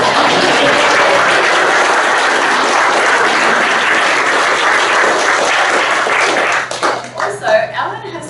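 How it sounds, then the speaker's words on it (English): Wedding guests give the bride Miranda a loud, sustained round of applause, thick continuous clapping that breaks off near the end as a speaking voice returns. "Now I want everyone to give Miranda a big, massive round of applause."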